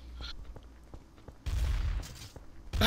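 Video-game gunfire in Trouble in Terrorist Town: faint regular taps give way to a loud burst of shots partway through, then a second sharp burst at the end.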